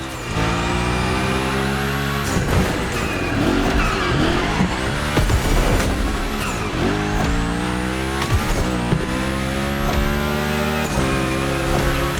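A car drifts through a gymkhana course in The Crew Motorfest, its engine revving and dropping through gear shifts while tires squeal in long slides, loud and close with no talk.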